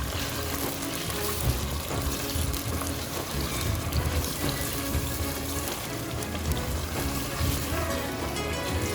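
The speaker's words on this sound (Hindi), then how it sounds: "ये चिकन ड्रम स्टिक जो है वो हम इसमें ऑयल में फ्राई करेंगे" Chicken drumsticks fry in hot oil, a dense, continuous sizzle and crackle that stays loud and close without pause, with no voices over it.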